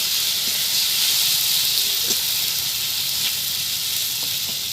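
Green chili paste fries in a hot pan, giving a continuous bright sizzle with faint pops and crackles scattered through it and no talking.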